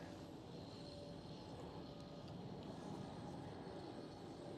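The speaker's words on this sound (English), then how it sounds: "There goes a KLM Cityhopper E195E2." Faint and distant, a KLM Cityhopper Embraer E195-E2 jet at Schiphol gives off a soft, steady engine rumble with a light hiss, unbroken for several seconds and free of speech.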